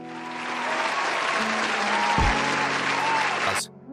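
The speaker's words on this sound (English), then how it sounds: "the room erupted in applause" A room of people breaking into applause, dense steady clapping that builds and holds, with faint tones and a voice beneath, then cuts off abruptly near the end.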